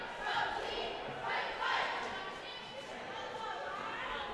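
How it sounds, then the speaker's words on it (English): A small crowd at a high school boys varsity basketball game, Lexington against Burlington, makes a low, continuous murmur of chatter with a few louder swells, heard at a distance. "Pretty small crowd."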